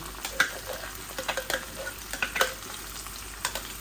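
Grated onion tipped into a frying curry of dried fish, with soft crackling sizzle and scattered scraping stir strokes from a spoon against the pan, moderately close and without talk.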